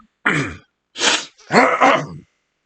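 Three short, forceful coughs or throat-clearing bursts, close and loud, separated by brief silences, the last one doubled, with no speech around them.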